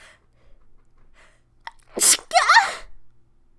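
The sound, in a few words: sneeze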